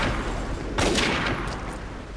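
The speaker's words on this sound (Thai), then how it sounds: "แล้วพัชยิงแม่งเลย ยิงแม่งเลย" Video game gunfire from the shooter AvatarStar: bursts of rapid shots crackle after a short lull, a moderately loud cluster of fire that fades into scattered trailing shots.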